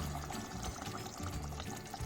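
Thick Kashmiri kofta curry poured out of a cooking pot, a steady dense liquid rush lasting about two seconds, close and fairly loud with no speech.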